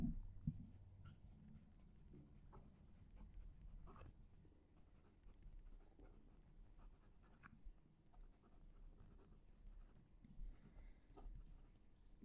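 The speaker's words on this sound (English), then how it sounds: "I'll move the mic and write a sentence." Pen writing a sentence on paper, close to the mic: faint scratching nib strokes come in short bursts and pauses with soft ticks between words, quiet and alone.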